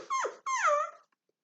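Ribsy the dog, inside a station wagon, whimpers anxiously: two short, high, wavering whines in quick succession, close and clear, followed by silence.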